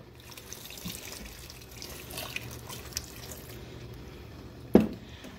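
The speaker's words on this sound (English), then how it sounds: "And then I am going to add our 2 cups of water." Two cups of water poured into a stock pot holding blueberries and sugar, a soft steady running pour with light splashing throughout, ending in a brief louder splash near the end.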